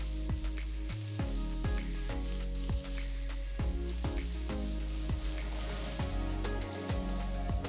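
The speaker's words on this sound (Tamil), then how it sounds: "4 பெரிய வெங்காயம் பொடியை நறுக்கி போடுங்க. வெங்காயம் பொன்னிறமாகிற வரைக்கும் வதக்கணும்." Four large chopped onions fry in oil with cinnamon, cloves and cardamom for a dhaba-style egg masala, a steady sizzle running beneath prominent rhythmic background music.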